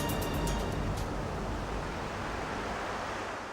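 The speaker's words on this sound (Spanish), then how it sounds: "La violencia del mar impacta en el viejo casco del buque" Stormy sea waves pounding against the old hull of a ship, a continuous loud wash of roaring surf and wind noise with no voices.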